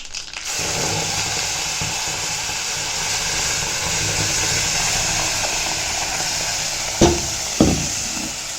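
A steady, loud sizzle of ground mint paste frying in hot oil for mint thokku fills the scene, broken by two sharp clunks near the end.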